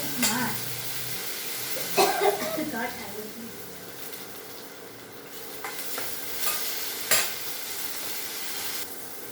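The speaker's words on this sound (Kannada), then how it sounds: "ಇವಾಗ ಟೊಮೊಟೊ ಹಾಕ್ತೀನಿ" Tomatoes go into hot oil with half-cooked onion for a tempering, giving a continuous sizzle broken by scraping stir strokes and a few sharp clinks of the spoon, with a voice talking now and then.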